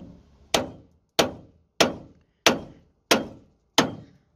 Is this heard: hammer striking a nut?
yes